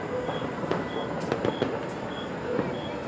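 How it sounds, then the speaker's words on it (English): Christmas Eve fireworks going off across Port-au-Prince, scattered distant pops and crackles over a low ambient rumble, with faint voices in the background. "in Port-au-Prince, fireworks all over"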